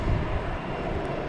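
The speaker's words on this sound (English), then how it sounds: "There's that JetBlue that just landed" JetBlue airliner at Boston Logan Airport near the runway end, a broad steady jet engine roar at moderate distance that fills the whole short stretch.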